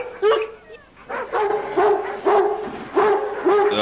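A dog barks and yelps repeatedly, loud and close, in a run of several excited barks over a constant background hum.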